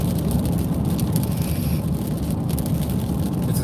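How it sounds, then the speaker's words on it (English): Heavy rain drums on a moving vehicle while driving, a dense, constant roar of road and rain noise with no talking. "I might be hitting some heavier rain here."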